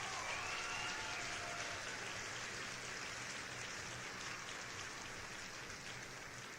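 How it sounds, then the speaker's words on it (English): A round of applause, heard as a steady, even wash of clapping at low level that stays constant throughout and then fades slightly toward the end. "Let's give him a round of applause."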